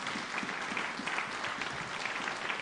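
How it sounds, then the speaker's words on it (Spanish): Church congregation in La Paz, Bolivia applauding, a dense, even wash of many hands clapping together, steady throughout with no voices over it. "Dásele un fuerte aplauso poderoso a Jesús."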